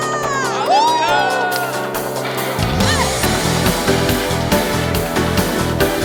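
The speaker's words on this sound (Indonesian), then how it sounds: "Kita bersorak bagi kemenangan nama Tuhan. Sorakan haleluya." A church congregation at a Sunday worship service cheers and shouts hallelujah together, a loud dense crowd roar with whoops and music underneath that swells and continues throughout.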